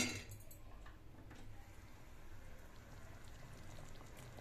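Lentil ball curry (paruppu urundai kuzhambu) bubbling in a pot, a low, steady simmer of soft pops and gurgles that runs evenly throughout, fairly faint and with no talk.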